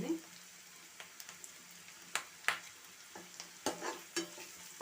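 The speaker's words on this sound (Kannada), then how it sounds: "ಆನಿಯನು ಕಲರ್ ಚೇಂಜ್ ಆಗೋವರೆಗೂ ಇದನ್ನು ನಾವು ಫ್ರೈ ಮಾಡ್ಕೋಬೇಕಾಗುತ್ತೆ." Onions and broken red chillies fry in a pan for vangibath with capsicum, a quiet steady sizzle punctuated by sharp scraping stirs and clacks of the spoon against the pan.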